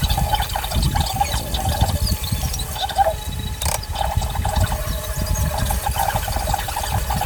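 Water runs and drains steadily from a kitchen sink while small fish, galunggong and dalagang bukid, are rinsed, a continuous splashing gurgle with occasional clinks.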